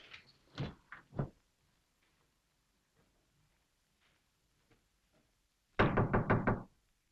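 In a 1938 detective film scene, a brief burst of voices gives way to near silence, then a loud, rapid run of about six knocks on a locked library door.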